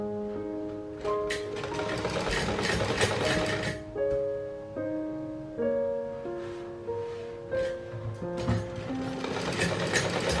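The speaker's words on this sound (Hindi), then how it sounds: "किनारी किनारी पे सिलाई करेंगे।" Sewing machine stitching along the fabric edges of a small child's warm winter cap, a steady mechanical whirring run interrupted by brief stops, with a tonal musical layer playing over it throughout.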